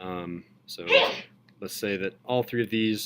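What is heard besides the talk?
sneeze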